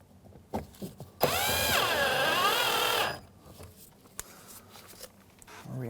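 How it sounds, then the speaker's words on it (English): Cordless power driver sinking Phillips head screws into the driver's side mirror of a 2007-2013 Mitsubishi Outlander: one close, whining burst of about two seconds that rises and dips in pitch, with soft handling clicks around it. "We'll go ahead and install these 2 screws. Again, Phillips head screws."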